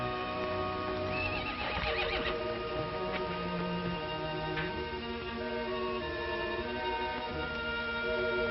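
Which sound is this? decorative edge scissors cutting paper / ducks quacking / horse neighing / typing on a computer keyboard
horse neighing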